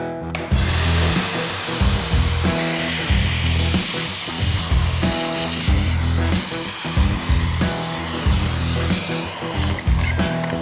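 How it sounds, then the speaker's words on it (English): A shop vac runs steadily and loudly while cleaning out an old Suzuki TS400 Apache motorcycle's tank, its whine rising and dipping rhythmically as the nozzle moves, with clattering bursts of debris throughout. "Shop vac."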